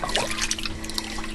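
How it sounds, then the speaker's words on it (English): Minestrone soup is stirred in a pot, producing brief wet sloshing and liquid swishing at close range, moderately quiet. "And give this a stir."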